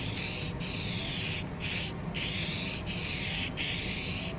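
Repositionable spray adhesive hisses from an aerosol can in several close, loud bursts with brief pauses between them, applied to back 320 and 1500 grit sandpaper sheets used for restoring an old Stanley No 5 Type 16 hand plane.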